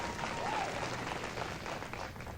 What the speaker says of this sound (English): the crowd behind the 9th green appreciates it